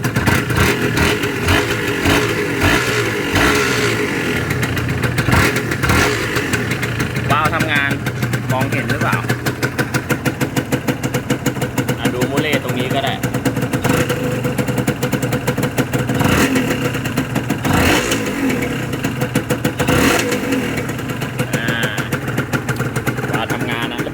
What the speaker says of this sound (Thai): ฟังเสียงเบิ้ลรถวิ่งดีมากเลยนะ